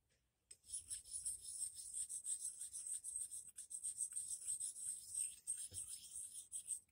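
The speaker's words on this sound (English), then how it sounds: "Try to move the stone around in a circular pattern around it." A sharpening stone is worked in small circles against a valve seat in a Farmall Super tractor cylinder head, making a faint, continuous scratchy rasp that comes close up and alone.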